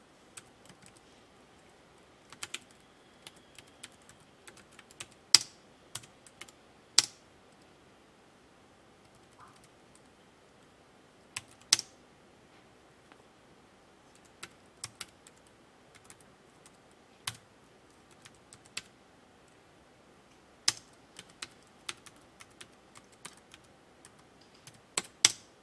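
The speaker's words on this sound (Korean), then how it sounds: "그 다음에 이제 타이핑 입력할게요" Light typing on a computer keyboard, with scattered quiet key clicks and occasional sharper taps spread unevenly across a long, otherwise quiet stretch.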